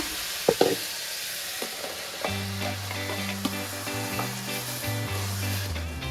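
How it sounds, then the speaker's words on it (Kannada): Ground masala fries in oil in a pan with a steady sizzle and repeated spoon scrapes and knocks as it is stirred, while tuneful background music plays underneath. "ಈ ಮಸಾಲೆನೂ ಅಷ್ಟೇ ಎಣ್ಣೆಲಿ ಸ್ವಲ್ಪ ಚೆನ್ನಾಗಿ ಫ್ರೈ ಆಗಲಿ"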